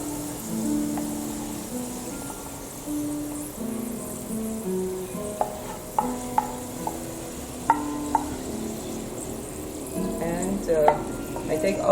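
Carrot pieces being scooped out of hot frying oil, a steady sizzle with scraping and light clinks of a utensil against the pan, close and fairly loud.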